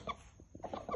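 A young fighting chicken clucks in short, clustered bursts near at hand, the calls coming in two groups separated by a brief quieter gap.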